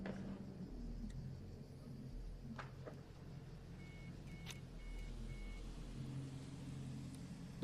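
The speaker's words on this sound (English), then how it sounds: "The triple beep." At a pro water ski tournament, a triple electronic beep sounds as three short, evenly spaced tones over steady boat engine rumble and outdoor noise, fairly faint in the mix.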